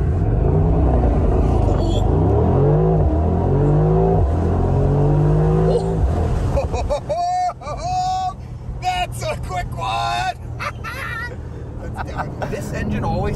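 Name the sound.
Mercedes-AMG SL55 engine and exhaust accelerating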